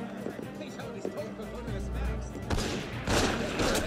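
Gunfire in the Assassin's Creed Unity video game, scattered shots and thuds building into a louder burst of rapid firing near the end, mixed with game background sound.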